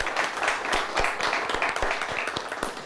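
A school quiz show audience breaks into applause, a steady patter of many hands clapping at moderate volume for a few seconds.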